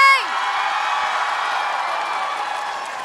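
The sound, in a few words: audience applause and cheering at a TwitchCon panel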